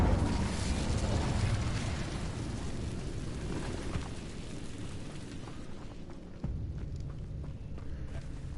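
A fire spell cast in Hogwarts Legacy gives a steady, rushing whoosh like a burst of flame, with a soft thump near the end.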